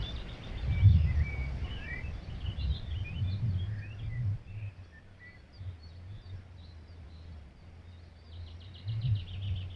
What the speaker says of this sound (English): all you can hear yet again is bird song